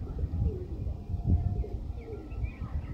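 Pigeons of breeds kept for sale, such as teddy and golden pigeons, coo in low throaty murmurs, several overlapping soft calls close by within a short stretch.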